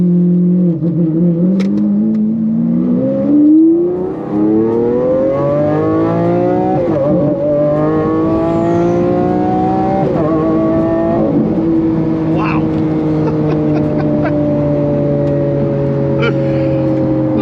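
A Lamborghini Aventador LP 700-4 supercar accelerates hard, its engine note climbing through the gears with a brief dip at each shift before settling into a loud, steady high-speed drone.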